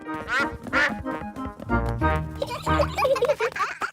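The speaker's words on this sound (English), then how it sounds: "Oh, it is Mrs. Duck" A cartoon duck quacks in a Peppa Pig episode, several loud, close, nasal quacks in quick succession with a short gap between bursts, with lively background sound and no talk.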